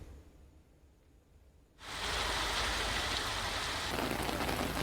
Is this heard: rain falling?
yes